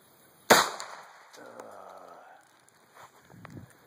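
Single sharp gunshot from a Springfield XD .45 pistol firing a hollow point round outdoors, a loud crack followed by a fading rumble, with faint movement noise afterward.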